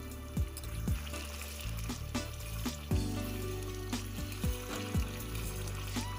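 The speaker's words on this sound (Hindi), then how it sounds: "जब तक जो हमने नीम पेस्ट डाला है इसे हमें तब तक पकाना है" Neem paste cooking in hot oil for a homemade neem and camphor oil bubbles and sizzles quietly, with soft, irregular pops and bursts spaced through a low frying hiss.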